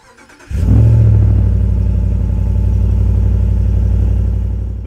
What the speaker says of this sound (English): Even from the outside, I love the sound of the cold start.